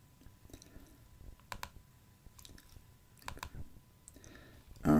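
A computer mouse clicks on a spreadsheet option: a few quiet, sharp, separate clicks at close range in a quiet room, with no talk.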